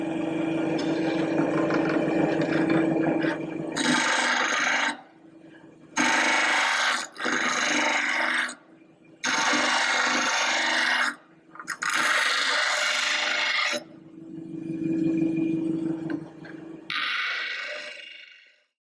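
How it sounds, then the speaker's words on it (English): A bench grinder shapes a student-made knife blade in long sweeping passes: repeated loud bursts of abrasive grinding, separated by short pauses, over a steady low motor hum. "So with the bench grinder, we're using long sweeping motions and we're trying to remove the texture mark."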